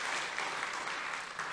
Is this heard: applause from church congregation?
yes